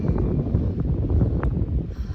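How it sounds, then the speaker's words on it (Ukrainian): Steady wind blowing off the sea buffets the microphone in a continuous low rumble, with gusts rising and falling throughout and no one speaking. "вітер сьогодні так з моря видно дує"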